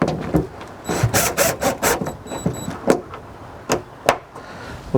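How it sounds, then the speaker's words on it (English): Screws being driven back into the tailgate handle of a 2016 Subaru, heard as a run of short, rhythmic rasping and scraping strokes with small metallic clicks, close and fairly loud, with no talking. "let's go ahead and put the screws back in"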